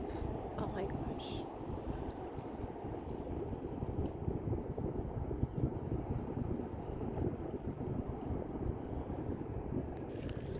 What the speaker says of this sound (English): So now we're getting into the part where it's like so windy.